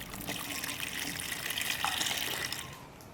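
Engine oil pouring into the filler of a Holden VY SS Commodore's 5.7 litre V8, a steady glugging liquid stream running continuously at close range before tapering off near the end.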